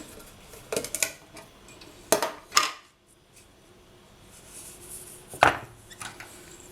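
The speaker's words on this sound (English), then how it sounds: "then I'll bring over our pot" A pot is brought over and set down on a work surface during a polymer clay bracelet craft, giving a few sharp, close clacks and knocks spread out with quiet pauses between them.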